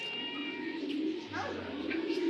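A racing pigeon coos in a low, steady murmur that runs through the whole moment, fairly close and moderately loud, with no voices over it.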